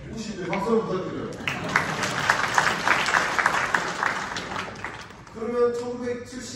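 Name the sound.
audience applause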